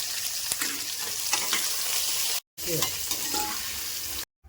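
Potatoes fry in a pan with salt and turmeric, a dense steady sizzle close by, with occasional scrapes and stirring knocks of a spatula and a short break in the middle.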